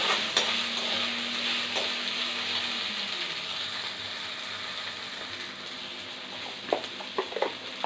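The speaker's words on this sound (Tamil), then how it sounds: "நல்லா மறுபடியும் வதக்கலாம்." Okra and onions sautéing in a pan give off a steady, close sizzle and hiss, with scraping stir sounds and a few sharp clicks of a spatula against the pan near the end.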